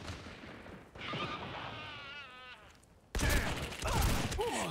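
Gunfire in the online shooter Caliber: two sharp, loud gunshot bursts about two seconds apart, set against game ambience and a thin whining background tone.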